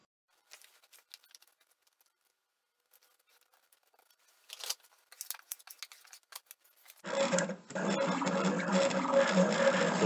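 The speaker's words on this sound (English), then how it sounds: "now this time I fed the vinyl correctly in the right direction, and the machine is doing its job" A vinyl cutting machine slices Siser EasyWeed heat-transfer vinyl with scattered light clicks and scratchy ticks, then a steady louder whirring motor hum takes over near the end.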